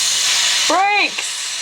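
A voice imitates a steam hiss: a short breathy hiss over a steady background, with a brief rising and falling vocal tone near the middle, lasting about a second.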